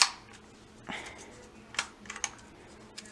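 A 2007 Dymo LetraTag label maker is worked by hand: a few faint, sharp clicks and snaps of the cutter, close and isolated against a quiet background.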